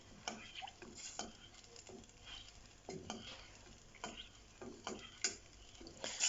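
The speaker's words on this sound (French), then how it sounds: "Après avoir donc mis au feu dans votre eau, vous allez donc venir remuer." Water being heated in a pot on the stove is stirred, giving soft intermittent scraping and light clinks at an irregular rhythm, quiet and close with no talking.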